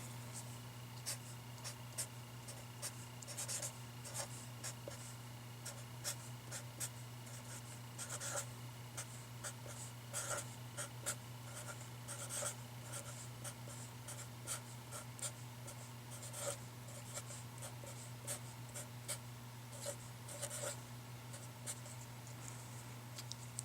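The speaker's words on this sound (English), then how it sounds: "Let me write the whole thing out first, and then I'll talk you through the pattern of how I'm writing it out after I do it." Pen or marker writing out an algebra problem by hand, steady faint scratching strokes with small taps and pauses, continuing for a long stretch over a low steady hum.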